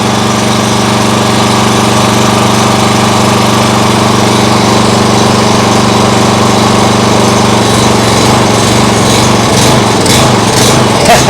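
A small lawn mower engine converted into a homemade outboard motor, running loud and close at full throttle with choke, a steady buzzing drone throughout and slight wavering toward the end.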